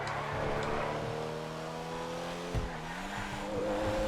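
The Growler race car in GTA FiveM drones steadily at high revs during a street race, its engine pitch dipping and shifting midway with a brief tire squeal, loud and continuous throughout.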